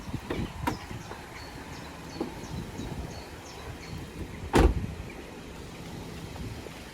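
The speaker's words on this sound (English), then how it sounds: "I'll put the windows down, it looks cooler with the windows down." Power windows of a BMW E93 320i convertible being lowered: a faint electric whirr runs through the quiet, broken by a sharp knock or clunk partway through, with no talking.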